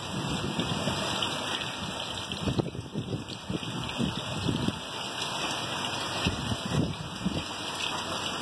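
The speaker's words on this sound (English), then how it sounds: "Oh, we got a little bit of hail coming down." Rain pours down in a storm with small hail mixed in, a dense steady patter with scattered louder hits and a constant high ringing tone running underneath.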